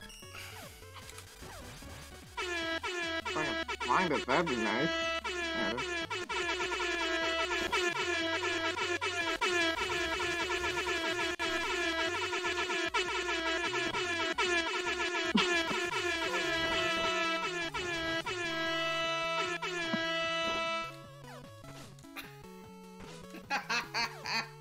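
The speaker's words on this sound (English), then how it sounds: "Air horn time!" A sustained, blaring air horn sound effect blasts loudly for about eighteen seconds, abruptly cut off, while voices chat briefly before and after it.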